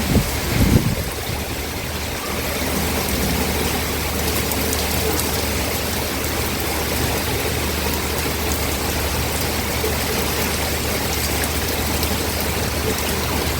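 Heavy rainstorm pours down over Dhaka city, a steady dense roar of rain with water rushing and streaming, constant and loud throughout, a brief louder burst near the start, with no talk.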